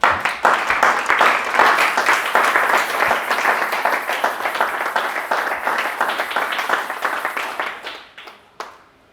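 Church congregation claps and cheers in praise of the Lord, a dense, steady wave of applause that holds for several seconds, thins out, and ends with a few scattered final claps.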